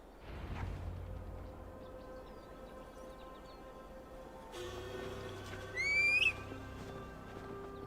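A horse whinnies once over ambient forest sound and a faint steady tone in the video game Assassin's Creed Valhalla, set in the woods of Gloucestershire, with soft hoof sounds early on.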